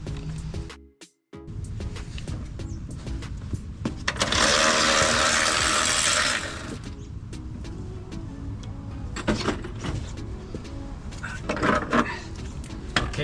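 A Milwaukee power tool removing coilover collars from a car strut, with a loud rattling whir for a couple of seconds, shorter bursts after it, and clanks of metal parts around them.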